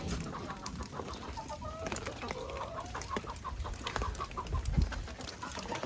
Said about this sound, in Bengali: এটা হইলো জি সানের মুরগি